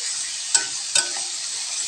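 Jengkol cooking in spicy sambal in a pan, with an even hiss of frying and two quick spatula scrapes close by.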